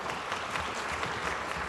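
A plenary session audience applauds to approve a proposal, a dense, steady wash of many hands clapping from a moderate distance with no break.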